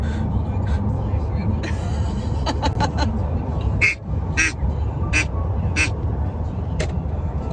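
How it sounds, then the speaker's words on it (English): Someone blows a duck call clumsily inside a moving car, giving a handful of short, uneven quacking blasts over the steady road rumble, with laughter breaking in between. "Greg is serenading me on the way to Chemo with his duck call that he doesn't know how to do"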